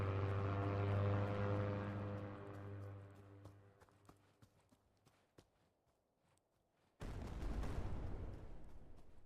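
A propeller aircraft in a video game drones loudly overhead and fades away, followed by scattered footsteps and clicks, then a sudden burst of broadband noise near the end.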